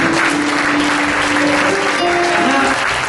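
Loud, dense congregation applause for a worship team at a church service, continuous clapping with sustained music tones beneath it.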